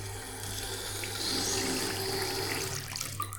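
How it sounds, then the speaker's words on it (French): Water running steadily from an overhead shower tap in a hotel bathroom on Phu Quoc, a continuous close hiss with a low hum underneath, no voices. "L'eau elle coule par en haut."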